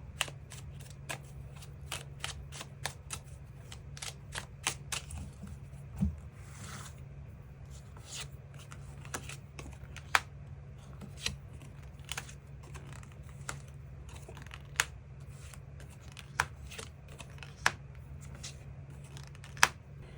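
Tarot cards being shuffled and drawn, a long quiet run of crisp flicks, snaps and riffles at an irregular rhythm, close to the ear with a low hum underneath and no talking.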